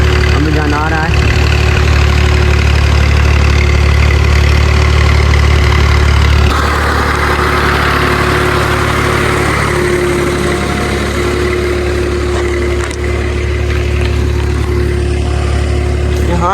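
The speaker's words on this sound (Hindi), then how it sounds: "ये ट्रैक्टर है, अब्बू जान आ रहा है।" A farm tractor's engine idles and chugs steadily as it approaches, a loud continuous low rumble that shifts partway through, with a voice speaking over it at times.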